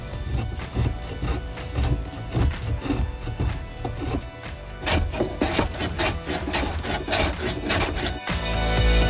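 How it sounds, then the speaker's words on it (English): A block plane shaves wood while building an insect hotel, producing repeated close, rough rasping strokes in a steady rhythm, ending in a louder scraping rush. "We're gonna do something with the block plane over here."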